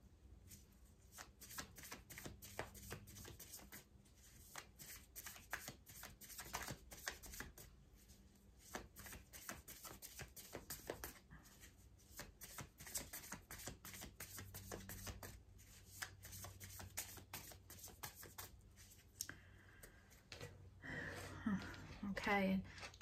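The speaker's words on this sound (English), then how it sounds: "just as I shuffle, see what I see on the bottom" Tarot cards are shuffled close up in quick, papery riffling bursts, repeated in rhythmic runs over a quiet background, with some faint talk in places.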